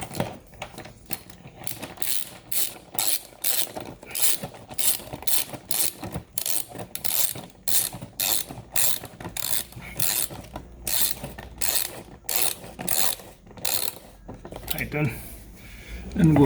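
A ratchet wrench clicks in quick repeated bursts while tightening the engine air filter housing on a Toyota Camry, close and crisp, with brief pauses between runs of clicks.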